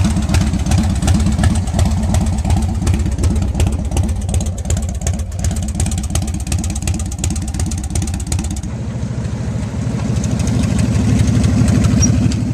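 An old motorcycle engine runs steadily close by, a loud, throbbing idle with a rapid firing pulse, then the tone shifts and thins slightly partway through, settling into a rougher chug.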